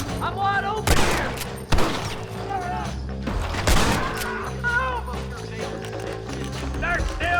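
Gunfire in a Red Dead Redemption shootout on PC: several sharp gunshots burst out among galloping hooves and music, with voices shouting over the action throughout.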